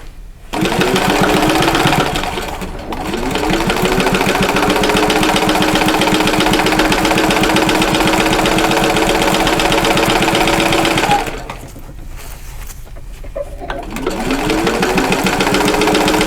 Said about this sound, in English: I'm going to press this side down and then top stitch